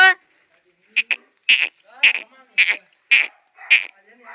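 Sheep bleating close by: a series of about six short, high, wavering calls spaced roughly half a second apart, with quiet gaps between them and no other voices.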